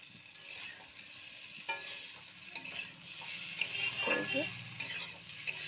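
Boiled banana tipped into a pan of frying potatoes and stirred, with a steady sizzle of hot oil, repeated scraping of a spoon against the pan and a few soft knocks, close up with no talking.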